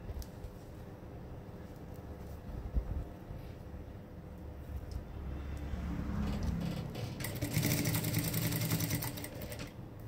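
A sewing machine stitching a zipper into flared trousers hums steadily and close, its whirring run growing louder and busier toward the end, with an air-conditioner drone in the background.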